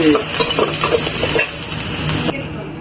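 Shallots and greens sautéing in a pan, a close sizzle broken by rhythmic scraping and stirring strokes of a utensil, loud at first and then easing into a quieter steady fry.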